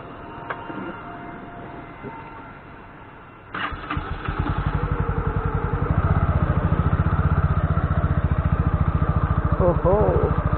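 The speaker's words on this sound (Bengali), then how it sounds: "বাইকটা অন করা যাক" An NS125 motorcycle engine cranks and catches, then settles into a steady, throbbing idle close by, with people talking over the engine noise.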